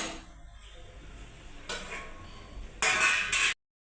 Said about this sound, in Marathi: डाळ तांदूळ टाकले शिजायला हलवून घेऊया